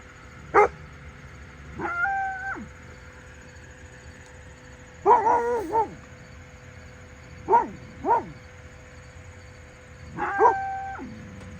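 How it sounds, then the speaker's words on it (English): Dogs bark and howl at cows in open country at a Nebraska wildlife management area, sounding in several separate bursts of yelps and howls at moderate distance against a quiet background. "Dogs are barking at cows a little bit."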